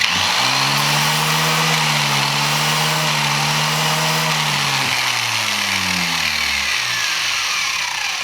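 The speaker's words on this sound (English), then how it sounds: "I'm going to use my trusty angle grinder with no guard on it" An unguarded angle grinder works on a part from a SIG P365 pistol. It gives a loud, continuous, close whine whose pitch sags under load and then climbs back.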